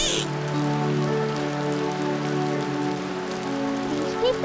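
Rain falls in a Meena cartoon: an even, hissing downpour runs steadily throughout alongside soft sustained tones, with no voices.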